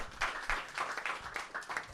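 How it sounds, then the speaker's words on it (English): Brief audience applause after a startup founder's pitch, a short burst of clustered hand claps in an uneven rhythm, moderately loud and free of talk. "Big round of applause."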